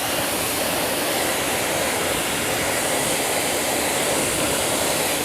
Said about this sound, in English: Let's rinse it off and see how that brake buster does.